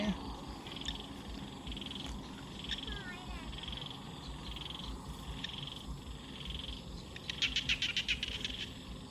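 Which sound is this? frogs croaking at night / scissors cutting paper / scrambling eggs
frogs croaking at night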